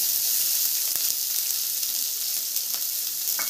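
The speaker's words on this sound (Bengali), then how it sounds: "দিয়ে দিব বড় সাইজের 3টা পেঁয়াজ কুচি।" Chopped onions frying over high heat, a loud continuous hissing sizzle with a few faint spatter clicks, alone without speech.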